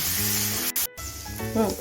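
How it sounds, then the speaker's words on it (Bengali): Onions fry in a pan while a chicken malai kofta is being made, giving a loud close sizzle that cuts out briefly and then returns, with faint tonal sounds near the end. "পেঁয়াজটা কালারটা যতক্ষণ চেঞ্জ না হচ্ছে ততক্ষণ অব্দি ভেজে নেব"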